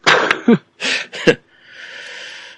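Several harsh, rough coughs in quick bursts, close to the listener, followed by a soft breathy hiss.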